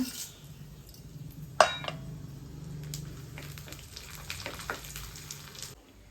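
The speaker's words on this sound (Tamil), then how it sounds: "பட்டை, சோம்பு, கிராம்பு, ஏலக்காய், பிரியாணி இலை போட்டு வறுத்துக்கலாங்க." Whole spices, including cinnamon, fennel, cloves, cardamom and bay leaf, frying in a spoonful of oil for pulao, a soft low sizzle with a sharp clink early on and scattered light stirring clicks.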